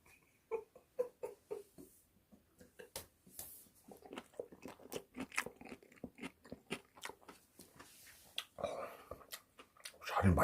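Close, crisp crunching and chewing of a stir-fried sausage and vegetable dish with carrots, repeated bites in an uneven rhythm, loud and near with no talk over them.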